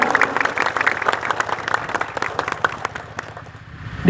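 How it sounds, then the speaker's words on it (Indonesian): An audience at a local gathering claps for an honored retired police officer, brisk close applause that thins and fades toward the end. "Tepuk tangan untuk beliau"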